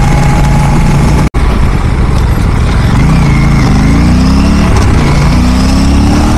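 An Aprilia RS457 motorcycle's exhaust runs loud and close, a steady rumbling drone broken by a brief dropout, then rises in pitch through a few revs.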